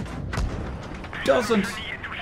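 Tank cannon fire in the game World of Tanks Blitz, a single boom with a short ringing tail heard at moderate level under a voice commenting on the match.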